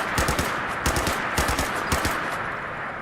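A machine gun fires in the video game Fallout 4, loud rapid bursts of shots in quick succession, close and dense, with no talking.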